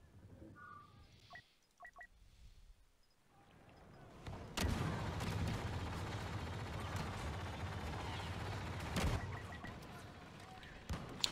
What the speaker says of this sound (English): Oh, somebody is shooting me.